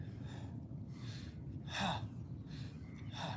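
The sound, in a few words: deep breathing, inhaling and exhaling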